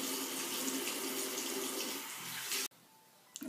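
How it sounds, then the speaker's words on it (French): Lukewarm water poured steadily from a tap to rinse honey off a face, a continuous close splashing stream that stops abruptly, followed by a brief quiet drip and small handling noises. "je verse l'eau comme ça"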